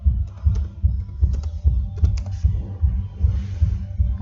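Typing on a computer keyboard: quick, close, fairly loud key clicks in an uneven rhythm with brief pauses, and no voices.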